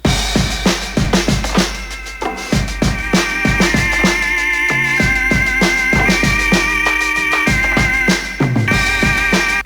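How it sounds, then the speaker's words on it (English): A full band plays with a sustained, 1960s-style organ holding chords over drums and bass, loud and steady throughout. "I have an organ in here"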